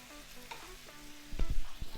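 Rice and vegetable broth go into a hot pan, giving a short burst of sizzling and stirring that swells loudly near the end after a quieter simmering start.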